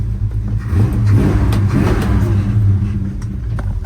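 A big 1955 Chevrolet engine rumbles and revs up close, its deep throaty roar swelling and easing steadily with no talking.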